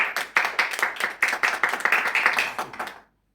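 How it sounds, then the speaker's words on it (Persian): A small audience claps for a guitar performer, a brisk burst of hand clapping at close range that holds steady for about three seconds and then stops abruptly into silence. "به افتخارش تشویق کنید."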